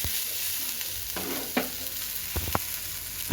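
Chilies and garlic roasting in a pan, stirred with a few scraping strokes over a steady, quiet sizzle, with no voices.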